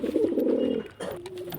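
A pigeon, one of a pair of black-necked breeding birds, gives a throaty cooing call in two close, clear bursts, the first longer and fuller, the second a shorter rolling coo, with no talking over it.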